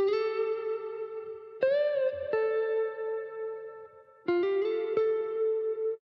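Original melodic phrase sample from a Splice pack for a trap beat, a bright synthetic tone with effects, playing sustained harmonic notes with a few sharp pitch changes and retriggers, clear and alone.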